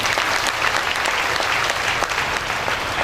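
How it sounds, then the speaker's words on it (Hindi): An audience at a Brahmakumaris stress-relief camp in Munger, Bihar claps loudly and continuously, a dense wash of applause lasting a few seconds with no voices over it. "ताली बजा सकते हैं"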